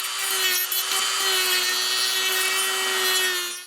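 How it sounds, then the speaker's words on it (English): A Dremel rotary tool grinds away black plastic tabs on a Mercedes-Benz W126 S-Class door check strap, producing a loud, steady high-pitched whine and gritty buzz that holds evenly for a few seconds before cutting off. "so I'm going to Dremel those out."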